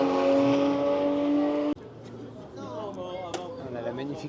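Porsche GT3 RS sports car at the Ferrarissimo 2024 event, heard first as a loud high revving engine that cuts off abruptly, followed by fainter engine and crowd noise with people talking.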